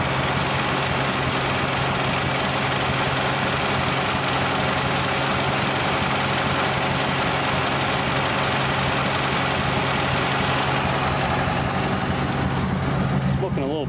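A tired, smoking 1962 Ford Falcon engine with its original Holley carburetor idles steadily, a loud, continuous low rumble with a constant hum and slight rhythmic lope, close by and unbroken to the end.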